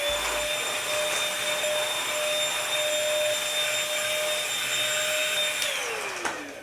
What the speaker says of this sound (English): This vacuum is a nice Bissell vacuum, not too expensive